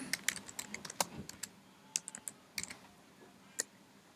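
Computer keyboard typing during photo editing, a quiet irregular run of crisp key clicks with short pauses, close up and alone.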